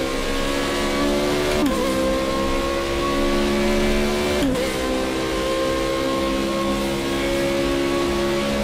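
A race car engine in the Project Cars 2 video game holds a steady, loud drone with two sharp gear-shift dips, then climbs again as revs rise, alone with no talk.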